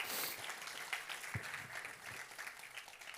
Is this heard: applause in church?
yes